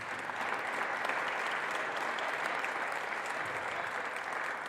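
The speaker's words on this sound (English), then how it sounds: "So let's give our staff a big round of applause." Steady round of applause at a school board meeting, continuous clapping from a room of people held at an even level throughout.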